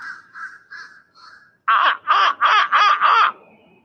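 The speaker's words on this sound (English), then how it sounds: "That's a crow, man. Big crow." A big crow outdoors gives a few soft, spaced calls, then a fast run of five loud, harsh caws close by, with no one talking over them.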